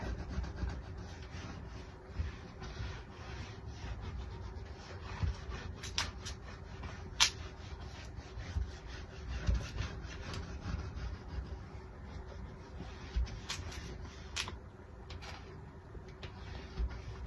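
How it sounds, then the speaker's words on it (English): A small plastic rubbing tool scraped across the rougher side of a cutting board, giving a continuous soft rasping rub with occasional sharper scratches. "I do rub it on the rougher side of the cutting board."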